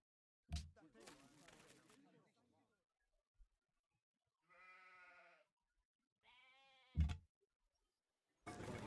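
Sheep bleat twice in the Civilization 5 strategy game, two clear wavering calls between short clicks and interface thumps.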